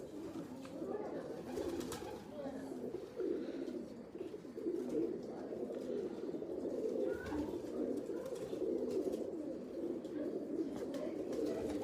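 Teddy pigeons coo in soft, throaty, overlapping calls that carry on steadily at close range, with a faint voice now and then beneath the birds.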